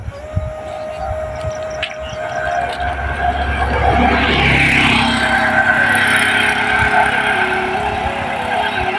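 A car passes along a road, its engine and tyre noise swelling to a peak midway and then fading, over steady outdoor background with faint voices nearby.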